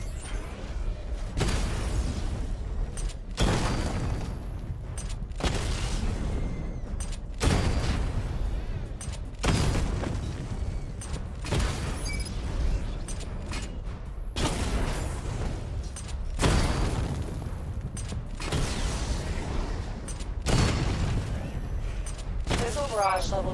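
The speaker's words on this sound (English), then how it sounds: "Charge the missile barrage to level 2 to destroy up to 4 targets at once." Missile barrage explosions in a video game land as a series of heavy, evenly spaced bursts, roughly every two seconds, each a dense boom against a continuous background of game effects.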